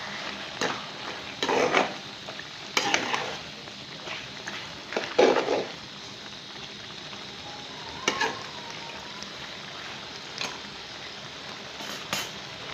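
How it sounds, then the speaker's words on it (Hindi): White chana with green chillies and coriander is stirred in a hot pan, giving a low sizzle under irregular bursts of utensil scraping and clinking against the pan, close up, with no talking. "इसको मिक्स करें।"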